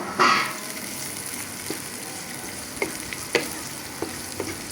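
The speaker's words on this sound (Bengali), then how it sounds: "দিয়া আরও কিছুক্ষণ নাড়াচাড়া করি" Fried onion stirred in a pan with green chili and ginger, a steady soft sizzle with a brief louder splash early on and a few light scraping clicks of the spoon, close by with no talk.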